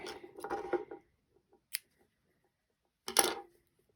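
Scissors cutting crochet yarn on a granny-square blanket: a crisp cluster of snips, a single sharp snip, then a last snip after a quiet gap, close and faint, with no voices.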